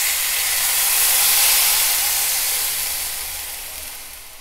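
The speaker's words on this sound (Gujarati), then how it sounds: "હવે ચણાનો લોટ અને છાશને જે મિક્સ કરીને રાખેલું છે એ એડ કરીશું।" A gram flour and buttermilk mixture poured into hot tempering with fenugreek seeds and dried red chilli sends up a loud, broad steamy hiss that slowly fades.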